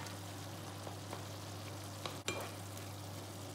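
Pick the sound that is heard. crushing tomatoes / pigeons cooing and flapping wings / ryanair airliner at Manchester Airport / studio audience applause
crushing tomatoes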